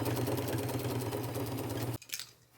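A sewing machine stitches through denim jeans with a fast, even, close mechanical whir, then stops abruptly, leaving a few faint handling noises.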